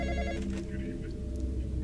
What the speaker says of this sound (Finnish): Okei, nyt mä vastaan puhelimeen.